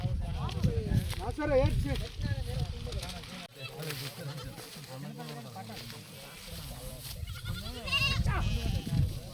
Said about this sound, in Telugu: మేకకి పాలు పడుతున్న దృశ్యం ఇది